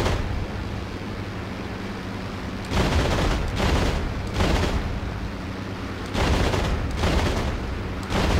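Aircraft gunfire in Digital Combat Simulator, heard as four loud bursts of a few seconds each. Between the bursts a steady engine-like roar carries on underneath.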